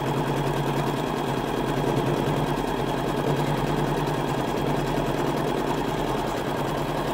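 An embroidery machine stitches the first colorway of a cutwork doily design on coloured fabric, a fast, steady mechanical rattle of rapid needle strokes running continuously with no talking.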